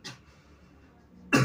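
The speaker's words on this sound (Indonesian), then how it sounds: "Batuk." A single person coughs and clears their throat, a short burst at the start and a louder, harsher one at the end, with quiet in between.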